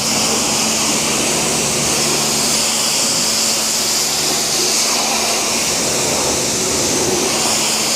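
Coin-operated car wash vacuum cleaner at a Melbourne car wash, running steadily and loudly with a constant hissing suction roar and a low motor hum, nearby, with no pauses or voices.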